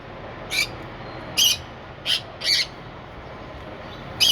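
Sun conures in a newly set-up aviary with nest boxes give loud, harsh screeches in short separate bursts, about five over a few seconds, against a steady background hiss.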